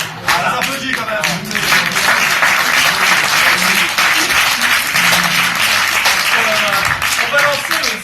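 Audience at a French comedy club imitation show breaks into sustained, loud applause that fills the whole stretch, with voices murmuring underneath.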